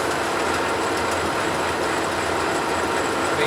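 A Monarch Model K 13 x 30 gear-head engine lathe running under power feed, cutting away from the spindle: a steady, even mechanical hum and whir with a faint rattle, moderately loud and continuous, with no speech.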